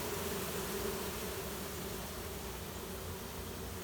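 Honey bees fan their wings at a large hive during a removal and swarm capture, making a steady, close, continuous buzzing drone with an even level throughout and no voices.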